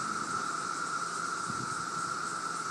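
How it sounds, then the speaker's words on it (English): Periodical cicadas from the 2013 emergence in Woodbridge, Virginia, drone in a dense, continuous high-pitched buzz that holds steady throughout, with no pauses. "You just see stuff flying everywhere. It's just cicadas."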